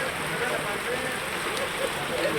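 Heavy evening rain pours steadily onto a road in Kollapur, making a dense, even hiss with no breaks throughout.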